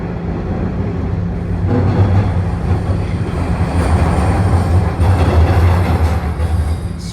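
A Toronto TTC subway train rumbles along from inside the car, a loud low steady roar with rising rail noise and faint wheel squeal, continuous with no talking.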